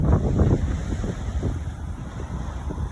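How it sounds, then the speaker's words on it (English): Steady wind buffets a microphone on a shoreline fishing outing, a rough low rumble with faint surf-like wash underneath, strongest at the start and easing slightly, no voices. "I don't know how much you can hear me or whatever with the wind blowing."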